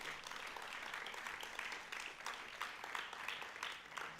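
Audience clapping steadily for graduates at a graduation ceremony, a dense, continuous patter of many hands throughout, fairly even in loudness with slight swells.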